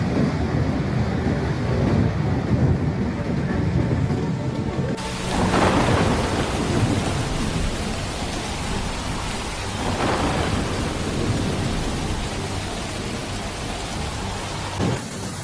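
Heavy rain pours steadily during flooding in southern France, with rolling thunder cracking and rumbling twice over the dense downpour, close and loud throughout.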